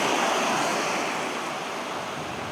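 Waves wash onto the shore at Lia Beach on Mykonos in a continuous, broad rushing surf, with some wind noise and no voices.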